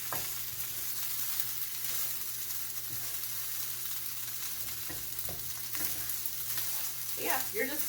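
Garlic fried rice stirred in oil in a pan crackles with a continuous close sizzle and repeated scraping strokes, growing a little busier toward the end.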